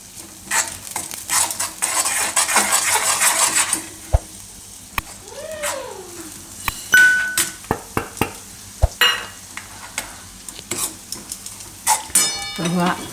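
Green garlic hitting butter in a pan, with a brief sizzle and spoon stirring and scraping that comes and goes under occasional clinks of utensils, close and moderate in level.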